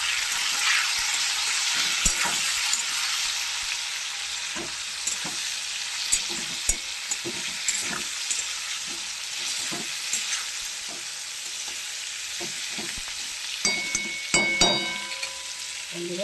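Cauliflower fries in oil with turmeric and salt, giving a steady close sizzle broken by sharp clinks and scrapes as a spatula stirs the pan, with no voices.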